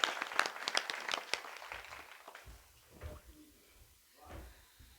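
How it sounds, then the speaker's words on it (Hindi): An audience at a Hindi poetry gathering breaks into brisk, scattered clapping for about two seconds, then it fades into quiet room noise with a few soft knocks. "एक बार जोरदार तालियां बजाइए।"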